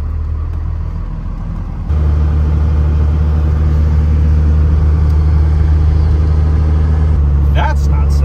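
A first-generation 12-valve Cummins diesel pickup drives down the road, its steady low engine rumble and road drone loud and continuous after a step up in volume, with talk over it.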